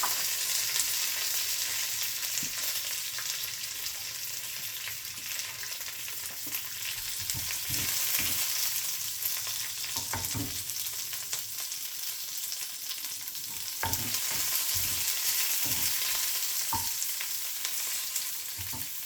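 Green chillies, ginger, garlic and curry leaves fry in a pan with a loud steady sizzle, punctuated by repeated clinks and scrapes of stirring.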